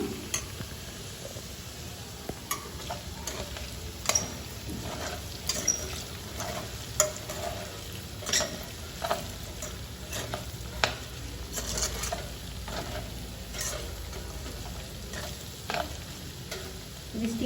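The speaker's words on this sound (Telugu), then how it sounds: "ఈ ఆలుగడ్డని నూనెలో మగ్గిస్తే మనకి మంచిగా ఫ్రై లాగా అవుతుంది" Potato pieces fry in hot oil with a steady, close sizzle throughout, punctuated by frequent sharp clicks and scrapes of a spoon stirring them in the pan.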